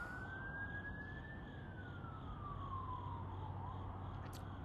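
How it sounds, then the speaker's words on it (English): An emergency vehicle siren wails continuously, its pitch rising and then sweeping slowly down and back up, loud and steady over a constant low rumble of traffic, with no voices. "Oh, here comes the siren."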